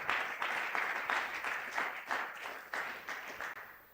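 A church congregation at a Sunday praise and thanksgiving service claps and applauds steadily, dense rhythmic clapping that carries on throughout before gradually easing off.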